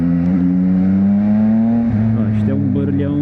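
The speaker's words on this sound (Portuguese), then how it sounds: "Ouve-se muito vento, pá. Já é um capacete com mais anos e pá, sinto muito vento, muito ruído exterior aqui. Ouço muito mais a moto do que nos outros." Yamaha MT-09 motorcycle engine droning steadily from inside an older helmet, with loud wind roar over it, the engine note shifting pitch as the bike changes speed.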